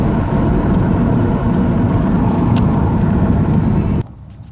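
A warmed-up Ford Falcon BA inline-six engine idles steadily with a low, even rumble close by, then cuts off abruptly just before the end.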